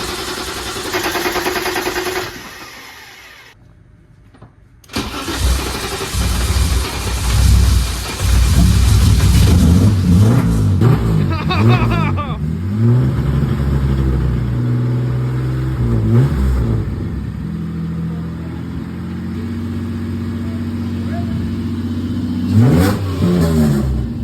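A BMW car engine cranks, catches and revs repeatedly, loud and close, with rising and falling rev sweeps over a rough idle and a brief silent gap early on.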